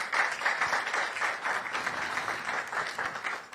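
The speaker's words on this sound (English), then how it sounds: "They deserve a round of applause" Steady applause from a crowd at a national science and maths quiz launch in Ghana, sustained clapping that stays fairly even in loudness throughout, with no talking over it.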